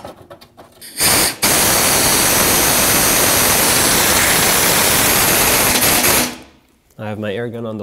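A pneumatic air gun on its lowest setting tightens bolts on a mounting brace, making a loud, sustained hissing whir for about five seconds. A voice follows right after.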